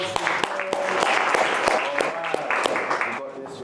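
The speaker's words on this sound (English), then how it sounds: "Round of applause once again" Audience applause at a public speaking workshop, a room of listeners clapping steadily with a few sharper individual claps standing out, lasting several seconds before tapering off.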